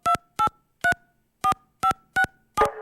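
Seven short telephone dialing tones, six evenly spaced clean beeps and a final louder, buzzier tone, sounding close and alone.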